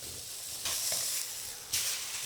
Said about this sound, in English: Now I want to sear this meat well